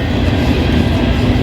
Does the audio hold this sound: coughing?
no